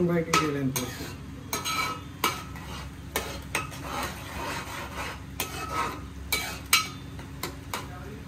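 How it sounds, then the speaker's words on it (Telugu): Ingredients for biryani stirred and fried crisp in oil in a pot: repeated metallic scraping strokes against the pot over a low frying sizzle, close and steady, with faint talk in the background. "మాడిపోకుండా క్రిస్పీగా అయ్యేలాగా ఫ్రై చేసుకోవడం."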